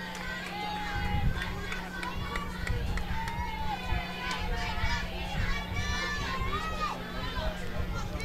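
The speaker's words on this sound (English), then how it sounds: "Crowd getting into this one in the second 2A semifinal." Crowd at a 2A softball semifinal in Des Moines, Buena Vista Diamond, a steady murmur of cheering and kids' shouts, with a steady hum and a commentator talking throughout.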